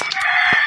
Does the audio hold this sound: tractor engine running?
no